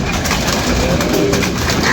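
Pigeons kept by a fancier coo steadily and close by, soft throaty calls overlapping one another against a constant busy background.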